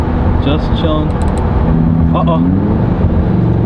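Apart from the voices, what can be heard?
Lamborghini Huracan EVO engine cruising in seventh gear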